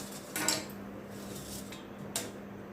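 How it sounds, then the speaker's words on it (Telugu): Brinjals cut into small pieces drop into a bowl of salt water in a home kitchen, giving two brief clinks against the bowl over a quiet background with a low steady hum. "వంకాయలు చిన్న చిన్నగా కట్ చేసుకొని ఉప్పు నీళ్ళల్లో వేసుకోవాలి"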